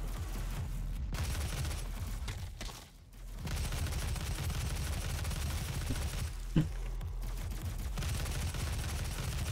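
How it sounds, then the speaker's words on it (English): Sustained weapon fire from the video game DOOM 2016, a steady stream of shots with a brief lull and one sharp louder hit near the end. "Who's shooting at me? Who's trying to shoot at me?"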